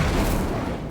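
Incendio fire spell cast in Hogwarts Legacy, a short loud whooshing burst of flame with a dense low rumble that fades slightly over about a second.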